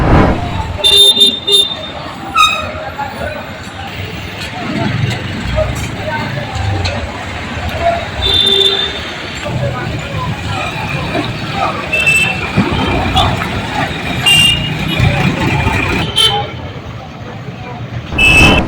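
Roadside traffic jam on the Assam–Tripura national highway at Nilambazar near a fish market, with a steady rumble of idling cars, buses and goods vehicles and repeated car horns honking near and far, with some talk in the background.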